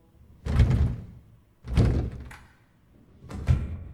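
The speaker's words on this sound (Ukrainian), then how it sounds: "Твої двері зачиняються." Elevator doors slide shut three times in a row, each a heavy, close thud with a short rumbling tail, spaced about a second apart in a quiet space with no talking.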